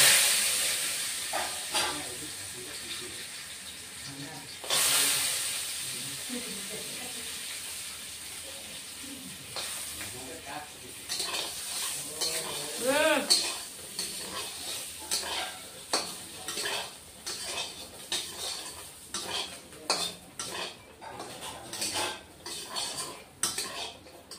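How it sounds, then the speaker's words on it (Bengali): Lentil dumplings (bori) frying in a pan for a tangra fish curry, with steady sizzling hiss and frequent metal spatula scrapes and clinks against the pan, fairly close and without talk. "বন্ধুরা বড়ি ভাজা হয়ে গেছে, এখন বড়িটা নামিয়ে দিচ্ছি"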